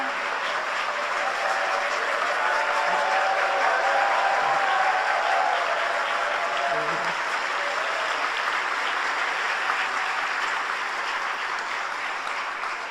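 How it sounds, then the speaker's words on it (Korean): Sustained applause from a church congregation at a New Year's Eve worship service, broad steady clapping filling the whole stretch at an even level, with faint murmuring voices underneath. "감사의 박수 보내드리겠습니다"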